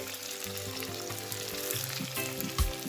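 Ackee and saltfish sizzle in a pan as fresh thyme goes in, a steady crackling fry with a few sharper pops and a stirring knock near the end.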